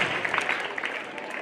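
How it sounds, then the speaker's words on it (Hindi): An audience claps to welcome a speaker at a school guest-honouring event, a dense, steady burst of applause close by and loud for the whole moment. "आपकी तालियों के बीच में।"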